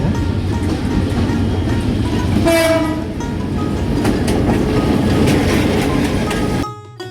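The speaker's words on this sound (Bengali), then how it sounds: "এখান থেকে যাব সান্তাহার অর্থাৎ একটি ট্রেনে উঠে সান্তাহার যাব" A train at Bogura railway station rumbles loudly and steadily nearby, its horn sounding briefly partway through over continuous wheel and carriage noise, before the sound cuts off near the end.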